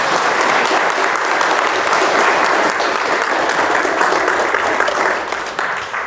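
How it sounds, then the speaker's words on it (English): Wedding guests at a ceremony break into dense, sustained applause for the couple, a loud wash of clapping that holds steady for several seconds before tapering slightly at the end. "Round of applause for our couple."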